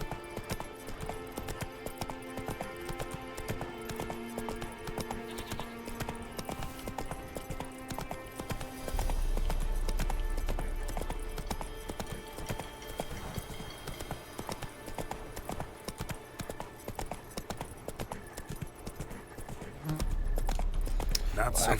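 Roach, the horse in the video game The Witcher 3, gallops with steady rhythmic clip-clopping hooves over game music and ambience. A louder, bassier stretch comes partway through, and someone talks over it in places.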